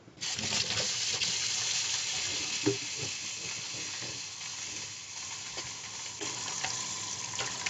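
Water and eucalyptus-based soap washing aluminium dirt bike radiators, a steady close hiss of running, spraying water with brief splashes and knocks throughout.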